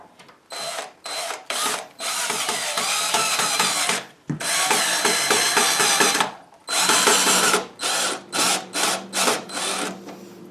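A Milwaukee Hole Dozer bit bores a lock hole through an old wooden door. The drill whines and grinds in bursts, with one long cut and several short on-off pulses near the end. The sound is close and loud, with no talking.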